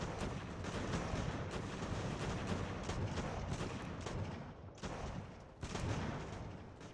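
Grenadier musket volleys in the Ultimate General: American Revolution battle game, dense overlapping booms and crackling gunfire rolling continuously, with brief dips before the firing swells again.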